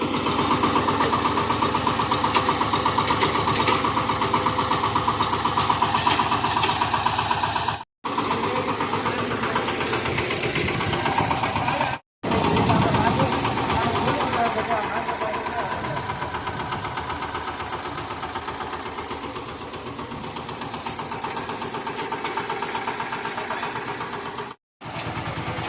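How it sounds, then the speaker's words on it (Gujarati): A VST power tiller engine runs with a close, steady chugging drone, briefly cutting out a few times, with voices heard now and then over it. "ટ્રેક્ટર માત્ર એક જ ગેર ઉપર હાલે છે અત્યારે"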